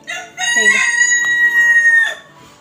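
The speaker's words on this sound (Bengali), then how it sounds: "আর আমাদের এখানে মোরগ ডাকা শুরু হয়ে গেছে, যেটা কম্পালসারি।" A rooster crows once, a long, loud, drawn-out call close by, with a brief cluck before it.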